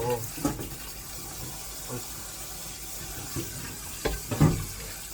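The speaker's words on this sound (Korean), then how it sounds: "비빔국수 할 때 물에 씻어서" Cooked noodles for bibim-guksu rinsed under running tap water at a sink, a steady faint stream with splashes and handling clatter, louder bursts near the end.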